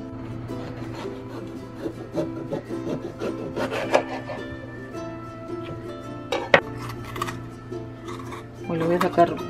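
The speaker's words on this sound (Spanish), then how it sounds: "también lo voy a cortar así para poderlo limpiar de adentro" A knife slicing through an orange bell pepper makes repeated close crisp cuts and rubbing scrapes against a board, with a few sharper snaps and a faint steady hum beneath.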